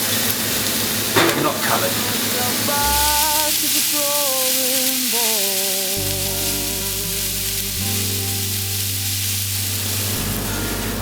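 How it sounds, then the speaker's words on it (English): Carrots, fennel and onion cooking in vegetable oil give a steady sizzle and hiss, with a person talking over it throughout. "The first step is to cook the carrots, fennel and onion for around 15 minutes in some vegetable oil"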